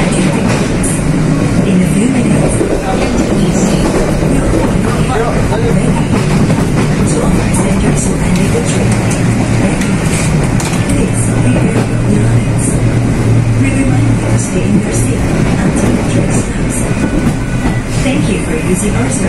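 The Rajabasa passenger train, hauled by a CC203 locomotive, runs on rails between Baturaja and Tanjung Karang, heard from inside as a loud steady rumble with rhythmic clickety-clack and light rattling throughout.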